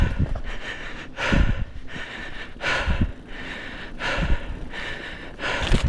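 Heavy, labored breathing of a mountain biker climbing a hill in Northumberland Forest, close and loud, with rhythmic gasping inhales and exhales roughly every second and a half, alone with no talk.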